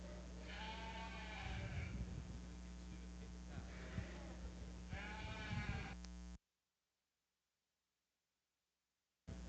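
Dorset sheep bleat repeatedly at a youth breeding sheep show ring, several wavering, overlapping cries over a constant low hum, moderately close, ending in a sudden cutout of near silence before the hum returns.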